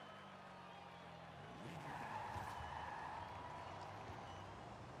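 Porsche Taycan in Forza Horizon 5 whining along at speed, with tires skidding and squealing in a rising burst midway over a steady electric-motor hum, fairly faint and continuous.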